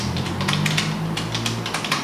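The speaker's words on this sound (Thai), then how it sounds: "ก็ใช้คีย์บอร์ดนะแล้วก็ผมก็เขียนไฟล์ที่มาตัวนึง" Keyboard typing, heard as steady close clicking over a loud, constant low hum, continuous for about two seconds with no talk.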